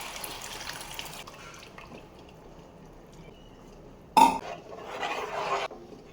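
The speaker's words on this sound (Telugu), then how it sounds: "ఈ చింతపండు వాటర్ వేసేద్దాము." Tamarind water pours into a pan of hot oil, a sudden splashing burst after a stretch of quiet low hiss, followed by a softer rushing sizzle that fades out.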